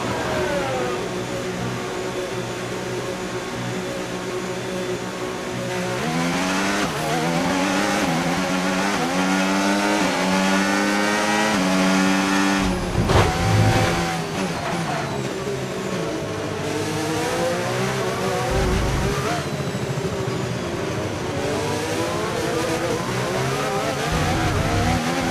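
Race cars in the F1 25 video game at Silverstone, engines whining and shifting through rising and falling pitch sweeps, loud and steady throughout with a sharp burst near the middle.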